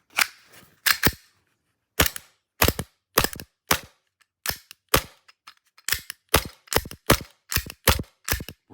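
A Tokyo Marui Glock Gen4 airsoft gas pistol with a loaded magazine fires about seventeen sharp, close shots, starting with a few spaced single shots and then settling into a steady quick rhythm of one to two per second.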